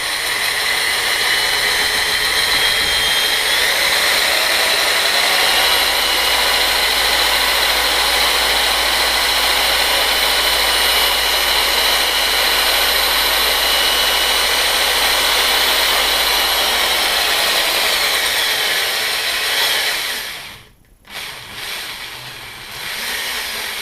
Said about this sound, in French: maintenant que j'ai la perceuse, je la mets en place sur le bobineur